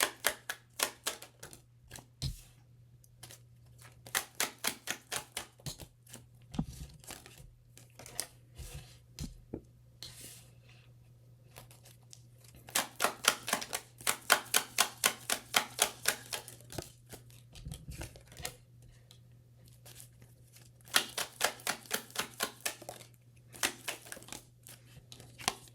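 Repeated bursts of rapid riffling and snapping as a deck of tarot cards is shuffled, several rounds separated by short pauses, close and crisp.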